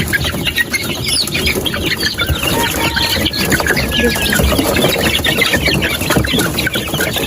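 Two-month-old Darag native chickens in a ranging space, clucking and chattering continuously at close range with brief wing flaps, while a person talks over the flock.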